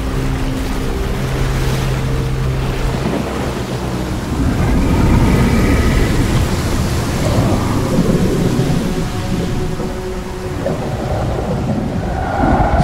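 A thunderstorm in the Genshin Impact video game: loud rolling rumbles over a wash of rain and surging water-like noise, swelling midway and persisting for the whole stretch without speech.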